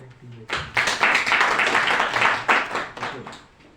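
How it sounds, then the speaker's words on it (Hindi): Audience at a handloom capacity-building training programme clapping after a prompt, a burst of mixed applause rising after a short pause and holding fairly steady, with voices underneath. "एक बार अब तालियां जाए जरा।"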